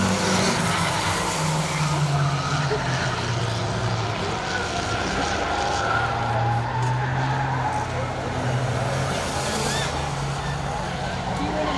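Race cars at Saratoga Speedway roar steadily around the track with continuous engine drone and tire noise throughout, while a commentator talks over the action.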